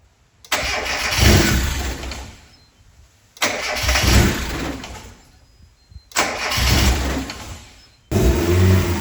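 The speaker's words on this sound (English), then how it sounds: "watch what happens when I try to start the car." A Mazda Miata with a large vacuum leak cranks and fires in four loud attempts, each a burst of rough engine noise that swells and fades, separated by brief pauses.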